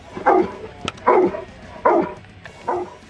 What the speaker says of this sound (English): barking at that scent source for us